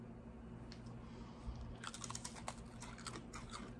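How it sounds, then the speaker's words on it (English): A crunchy coffee-flavored Indonesian snack is chewed close to the mic, a quiet stretch giving way to a dense run of crisp crunching bites with no speech over it. "A good crunch, I'll give it that"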